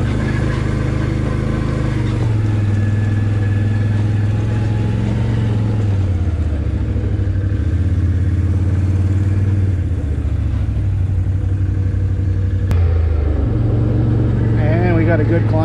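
A four-wheel-drive vehicle grinds through ruts on a trail, its engine a loud, close rumble that rises and falls in pitch as it labours, with talking over it.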